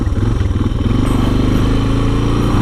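Engine drone of a Yamaha VMAX motorcycle heard from inside the rider's Adventure-series helmet with a big windshield, a loud, close, throbbing rumble that pulses steadily and holds a steady pitch while cruising.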